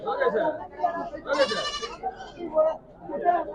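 Kodi goats bleat at a busy goat market in Veppur, several calls rising clearly around the middle and end of the stretch while people talk nearby throughout.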